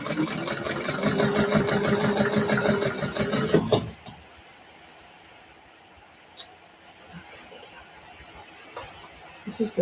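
A sewing machine stitches up a Tumbleweed in a fast, steady run of close, loud mechanical pulses for about four seconds, then stops, leaving quiet handling noises.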